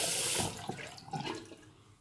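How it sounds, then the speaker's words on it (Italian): Running tap water splashes into a sink as hands are rinsed before a shave, a steady close wash with a brief louder burst at the start, then softer splashing. "E adesso sciacquiamo un attimo le mani"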